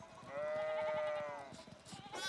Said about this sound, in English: One of the fence rails fell and the sheep started hopping up